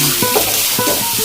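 Mashed potato for a spicy egg-and-potato mash is stirred and fried with turmeric powder in a pan, giving a loud, close, continuous sizzle broken by a few quick scraping strokes, with no voices.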